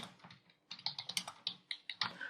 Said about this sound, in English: and I'm typing.